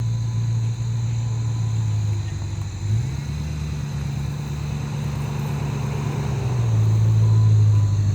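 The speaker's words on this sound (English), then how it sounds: "I'll throw in the clip of the Jeep going out to the pumpkin patch." Jeep Grand Cherokee driving out to a pumpkin patch, a steady low engine drone and road rumble heard from inside, with the pitch shifting as it eases and picks up speed, loud and continuous, no talking.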